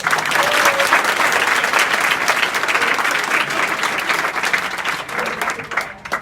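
A room of students at a school claps loudly and steadily as a group exercise, a dense sustained burst of applause that tapers slightly near the end.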